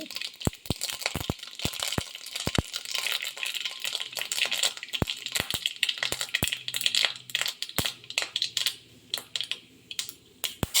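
Mustard seeds splutter and pop in hot coconut oil in a pan, giving a steady run of sharp, irregular crackles and snaps, some loud and close, over a soft sizzle.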